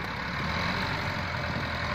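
A 2010 Massey Ferguson 240 tractor engine runs steadily with a low, continuous rumble at moderate distance, no voices heard.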